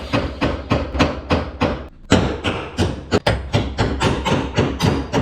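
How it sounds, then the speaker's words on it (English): Hammer blows on a punch driving old bolts out of farm equipment, a fast steady series of loud metallic strikes close by, briefly pausing once before resuming at the same rhythm. "We got some old bolts here. I'm gonna punch these out."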